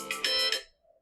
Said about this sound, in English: That's my alarm to go take my medicine.